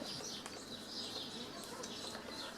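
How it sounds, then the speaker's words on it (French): Birds sing and chirp outside an open window on a sunny day, a fairly steady layer of high twittering calls with a few sharper chirps, moderately close and with no talk. "Désolée si vous entendez les oiseaux, il fait tellement beau aujourd'hui que j'ai laissé ma fenêtre ouverte."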